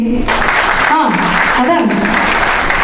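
An audience claps to welcome the four heroines of the Malayalam film Koodal onto the stage at a launch event. The dense, loud applause runs steadily throughout while a voice speaks briefly over it.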